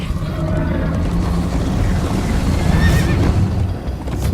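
Horse in the Minecraft Story Mode video game gives a loud, close whinny over steady galloping hoofbeats and rumbling movement, with no talking.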